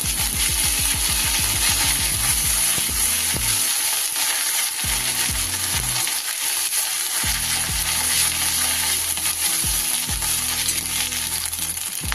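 Ginger and green chili paste with a pinch of turmeric fry in hot oil for a Bengali chhana bora dalna, a steady loud sizzle running throughout with bursts of scraping and stirring, no voices.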